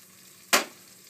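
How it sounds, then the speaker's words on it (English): Spring onions hit bubbling butter in a pan for risotto Milanese. One sharp, loud sizzle burst flares up and then tapers into a low, quiet hiss. "butter's starting to bubble. So we can throw in our spring onions."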